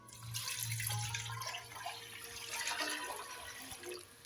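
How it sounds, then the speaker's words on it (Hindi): Water pours steadily into a heated metal pot for boiling eggs, splashing and gurgling for several seconds with a low hum in the background. "अब हम इसमें पानी डालेंगे।"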